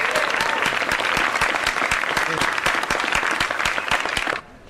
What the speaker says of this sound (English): Join with me, everyone, in giving Lindsay a really big round of applause.